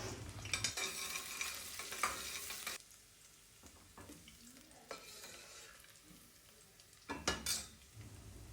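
Chopped onion frying in hot oil with a bay leaf and cinnamon stick, a soft steady sizzle broken by louder bursts of stirring and utensil scraping against the pan, near and without talk.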